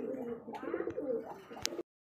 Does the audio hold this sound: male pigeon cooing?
yes